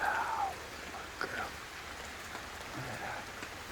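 Rain patters steadily on a surface near a sheltered Shetland pony, a soft continuous wash of drops with a few brief higher tones and faint murmur in the background.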